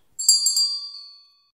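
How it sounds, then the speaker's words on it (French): A bright notification bell chimes once, a clear ringing ding with a couple of quick metallic strikes that rings out and decays over about a second, alone against silence. "abonnez-vous et cliquez sur la cloche"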